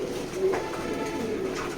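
Pied racing pigeons coo softly in a loft, low throaty calls repeating close by over a steady murmur of other birds.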